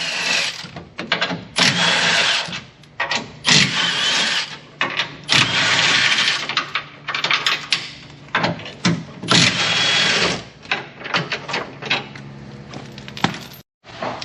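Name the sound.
impact wrench with 17mm socket removing Toyota Tacoma bumper hardware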